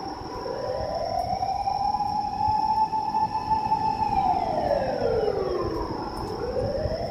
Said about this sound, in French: c'est une ambulance et puis là c'était des pompiers